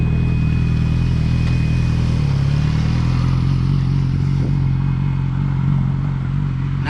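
A Yamaha R6 motorcycle engine idles steadily and close by during a riding lesson, a constant low rumble holding through the whole stretch with a brief dip in tone partway and no talk.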